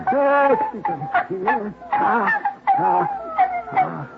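Puppies whimpering, staged as an effect in an old-time radio detective drama: a run of high, wavering whines and yelps repeating close and loud over about four seconds, with no talk over them.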